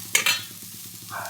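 Onion roasting in a pan for a rustic village-style drumstick black masala, giving a soft, steady sizzle with two brief louder stirring scrapes near the start and a faint rise at the end.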